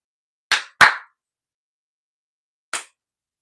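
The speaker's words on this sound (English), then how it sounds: "Sorry for the loud clap, y'all." Two sharp, loud hand claps close together, then a single clap after a pause of about two seconds, each crisp and near, with silence between, made to chase a dog out of the trash.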